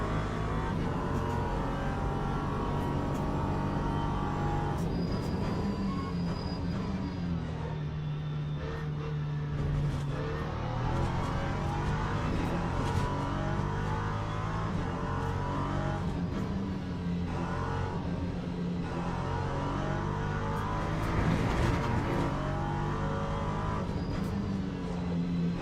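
An LMP3 prototype race car in a racing game, its engine droning steadily and loudly throughout with shifting pitch as it accelerates and slows for braking, close and continuous.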